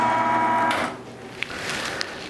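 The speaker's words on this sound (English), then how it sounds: "Don't force feed it into your grinder." A meat grinder motor whines steadily as it works through partly frozen venison for breakfast sausage, its tone shifting partway through with a couple of small knocks.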